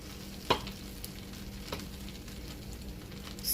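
Melted butter sizzles softly in a pot of party jollof rice as it is stirred, a low continuous hiss broken by a sharp clink of the spoon early on and a couple of lighter scrapes.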